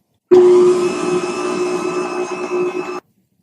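An electric stand mixer kneads dough for Georgian khachapuri cheese bread, giving a loud, steady motor whine with a droning hum that runs unbroken for about two and a half seconds, then cuts off abruptly.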